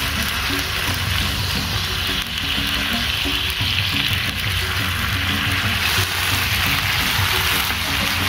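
Spice paste with added sugar sizzles loudly in a frying pan, a dense continuous hiss close up, with a spatula stirring and scraping through it and no voices.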